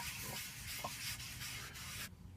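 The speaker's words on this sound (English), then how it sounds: "So I got a little dish of oil here. We'll start to rub that on there." Oil being rubbed by hand onto an old cast iron pan, a steady close scraping rub with brief strokes, ending abruptly.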